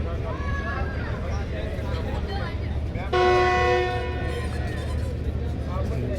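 A Pak Business Express train led by a GU40 locomotive departs Lahore railway station for Karachi, its horn giving one long, loud, steady blast over rumbling station noise, with someone talking throughout.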